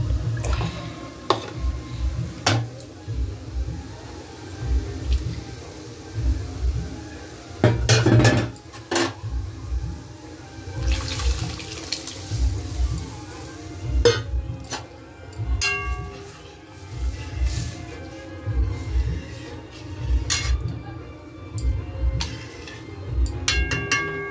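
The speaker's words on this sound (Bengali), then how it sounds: "আর এই দেখো সকালের ডাল আছে, এটাকে হলো দিয়ে একেবারে গরম করে নেব।" Leftover morning dal reheated in a pan on the stove: a spoon clinks and scrapes against the metal in an irregular, close rhythm, with soft wet squishing and a few sharper knocks, and no talking.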